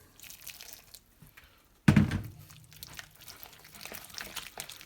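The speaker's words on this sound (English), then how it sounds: "So we'll put some more water in." Water poured from a tap into thick Gobi Manchurian batter for cauliflower: a sudden splash then a short trickle that fades, close and fairly quiet, with small clinks around it.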